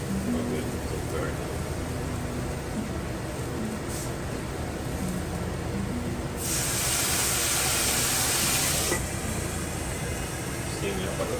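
Mapo tofu steaming in a pan with a little added water, a steady loud hiss that swells into a brighter, stronger sizzle for a few seconds midway before settling back.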